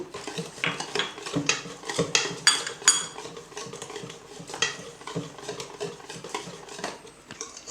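Crepe batter with jaggery-type country sugar and vanilla being stirred in a bowl, giving a steady run of light clinks and soft wet scraping strokes of a spoon against the bowl, close and fairly busy.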